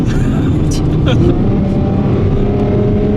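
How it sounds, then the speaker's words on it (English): A 2017 Ferrari F12 Berlinetta's exhaust gives a loud, sustained roar at high revs, steady and close throughout, with a brief higher whine in the first second. "I don't know if you could hear that exhaust. I'm sure you could, but did you hear how loud that was screaming?"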